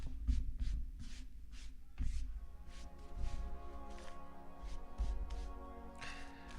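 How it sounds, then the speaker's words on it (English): Playing cards being shuffled at a card magic practice table, a steady run of soft rustling riffles and flicks with a few louder taps, close and without talk. "now we're doing some Leonard Green shuffling"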